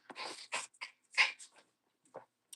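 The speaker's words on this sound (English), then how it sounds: "Him's the cutest little puppy." A small puppy gives a few soft, high whimpers and yips in short bursts with gaps between them, close by and fairly quiet, with no talking.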